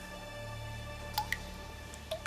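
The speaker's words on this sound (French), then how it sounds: "J'entends de l'eau tomber goutte à goutte." Water dripping drop by drop in a cave, a few distinct plinks spaced apart over a faint hum, quiet and sparse, with no talking.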